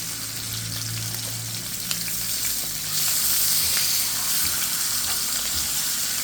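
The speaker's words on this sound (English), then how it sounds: "Let it sear on this side for 5 minutes." Chicken marinated in Matador arrachera seasoning searing in a pan, giving a steady, close, bright sizzle that swells a little louder partway through, with no talking.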